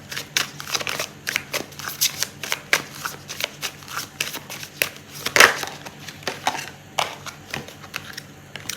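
Tarot cards being shuffled by hand for a reading, a close series of quick riffling rustles and papery flicks in uneven bursts, with one sharper snap of a card near the middle.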